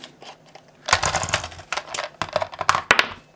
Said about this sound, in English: So I'll go ahead and put the card back in.